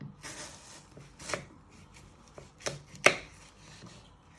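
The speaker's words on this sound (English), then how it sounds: "So you're first going to chop it down the middle. Chop them in half again." A knife chops through apples on a cutting board, cutting them down the middle and then into quarters before coring: a few separate, fairly close thuds spaced irregularly, the sharpest one near the end, with no one speaking.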